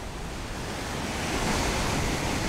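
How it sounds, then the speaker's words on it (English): Rough Atlantic Ocean surf breaking on a wide beach, a loud, dense roar of crashing waves that swells slightly midway, mixed with wind buffeting the microphone and no voices. "The waves are pretty rough this afternoon."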